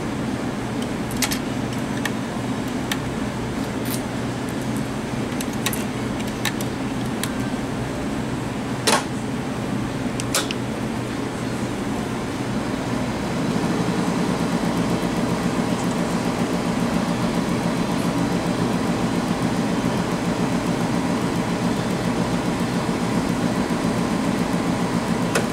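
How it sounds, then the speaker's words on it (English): A benchtop laboratory centrifuge spins blood sample test tubes for ABO blood typing, giving a steady whirring hum with a few light clicks early on; the hum grows slightly louder and fuller partway through. "You mix and spin for 15 seconds in the centrifuge."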